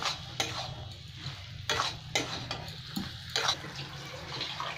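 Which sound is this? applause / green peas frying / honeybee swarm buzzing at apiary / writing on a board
green peas frying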